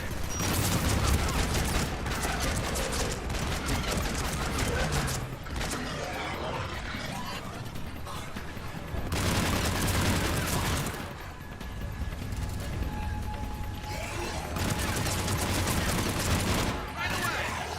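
Gunfire in the Mass Effect 3 video game during a combat firefight, dense rapid bursts of automatic shots in long loud stretches broken by brief lulls, with talking underneath.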